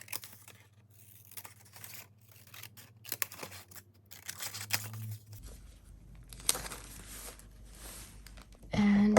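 Scissors snip around a paper piece for a junk journal, a close, quiet series of short irregular cuts and slicing strokes with light paper rustling, ending in a louder crinkle.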